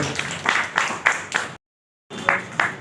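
A crowd at a school seminar claps in even rhythmic unison, several loud beats, a short break, then the claps resume.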